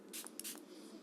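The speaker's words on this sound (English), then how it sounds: "This facial spray right here from Ren" A few quick hissing bursts from a Ren facial mist spray, close and soft, with two or three short pumps in a quiet room and no talking.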